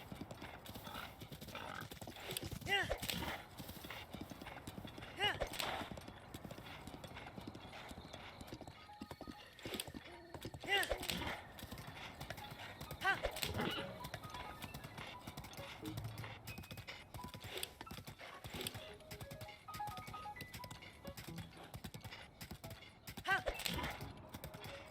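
Horse hooves clip-clop steadily in Zelda Breath of the Wild, with a pony whinnying now and then over ambient game sound and someone talking throughout.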